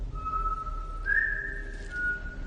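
A man whistles a steady, wavering tune in a sustained, clear tone over faint low background rumble, close and alone without talk.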